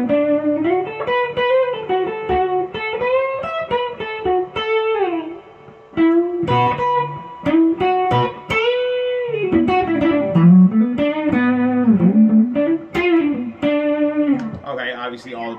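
A Gibson BB King Lucille electric guitar on its middle pickup plays continuous melodic phrases with sustained, bent notes and quick runs, loud and up front.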